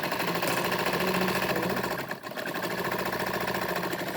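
Sewing machine running a straight beginner practice seam at steady speed, a continuous rapid rhythmic stitching whir close by with a brief slowdown midway before resuming.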